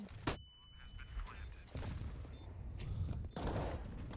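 Gunfire from a competitive Counter-Strike match, including AK and Deagle shots, heard as sharp bursts and rattling volleys among game effects with a commentator talking over them.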